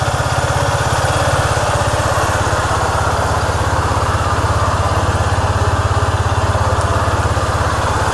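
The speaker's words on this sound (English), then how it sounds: "It's called a gas ping noise." A 2007 Honda Rancher ATV engine runs steadily up close, a continuous idle-like drone with a faint metallic pinging rattle. It plays alone, with no talking, at an even level throughout.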